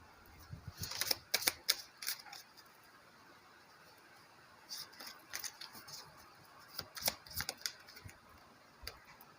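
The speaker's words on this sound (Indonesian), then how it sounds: "saya ambil dulu kartunya dan saya bentang minimal 3" Tarot cards are drawn and spread out on a surface: quick bursts of crisp clicking, snapping and sliding taps in two clusters with a pause between, close and fairly quiet, no voices.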